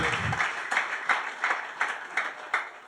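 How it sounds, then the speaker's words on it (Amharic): Congregation clapping in rhythm during a church testimony service, a steady series of about eight even claps repeating roughly every 0.4 seconds, fairly close and moderate in volume, with no talk over it. "አጨብጭቡ ለጌታ ክብር።"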